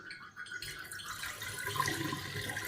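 Water sloshes and pours steadily as soaked sorghum grains are rinsed by hand in a bowl, a continuous close, wet splashing that grows slightly fuller toward the end, with no talking.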